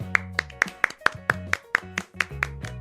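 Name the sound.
audience applause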